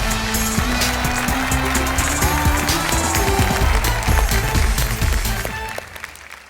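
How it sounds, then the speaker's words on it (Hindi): Studio audience clapping on a late-night Hindi comedy variety show welcomes a stand-up performer. It sounds dense and steady, mixed with loud show music, then thins out near the end. "तो एक बार जोरदार तालियों के साथ सुनते हैं"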